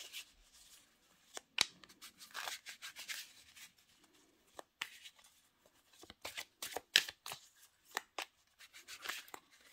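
Oracle cards being shuffled and cut by hand, irregular close papery riffles, slides and taps in quick bursts separated by short pauses, quiet and without speech.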